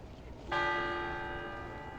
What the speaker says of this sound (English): The moment the station bell tolls, a voice rings all over the dim.